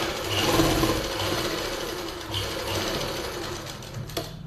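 An electric sewing machine runs steadily, stitching close along a pocket to close it on palazzo pant lining. The needle's rapid whirring chatter carries up close and loud, easing near the end with a small click.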